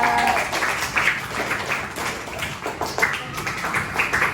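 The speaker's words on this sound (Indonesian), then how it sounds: "Tepuk tangan untuk kita semua." Scattered clapping from a class of listeners, moderately loud and uneven over several seconds, with a voice or two mixed in.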